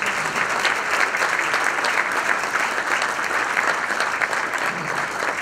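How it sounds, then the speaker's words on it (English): An audience at a State of the City address breaks into sustained applause. The dense, even clapping fills the room and continues steadily throughout. "I think the greatest generation needs a round of applause."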